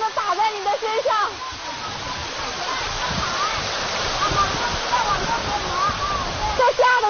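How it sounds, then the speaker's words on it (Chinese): A mountain stream on the Wanquan River rushes and splashes against people wading through it, a steady loud wash of water with voices talking over it at the start and end. "旁边的溪水不停地打在你的身上"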